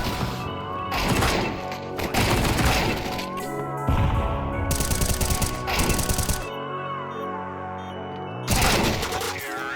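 Counter-Strike round gunfire: sharp shots cracking out in scattered bursts, with a heavy cluster near the end, while a voice talks throughout.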